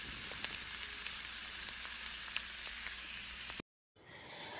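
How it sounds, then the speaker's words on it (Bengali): Chicken cutlets sizzle steadily while frying in oil, a close, constant crackling hiss with small pops throughout, cut off briefly before resuming more faintly. "এবার এইভাবে আমি সব কটাকে লাল লাল মতো করে ভেজে নেব।"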